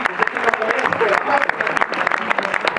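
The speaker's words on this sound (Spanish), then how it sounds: "Oscar se ganó un aplauso también" A classroom of students claps for a classmate in a short burst of uneven, close hand claps with voices mixed in.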